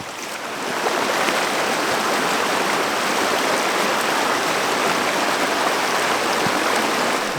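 Steady, close rushing and splashing of calf-deep water in a narrow canyon stream while someone wades through it in waders. The broadband water noise stays constant and continuous with no talk.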